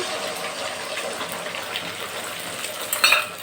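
An omelette with onion, green chili and salt hits hot oil in a heated wok. It gives a soft, even hiss with a sharp metallic clink just before the end, and no one speaks.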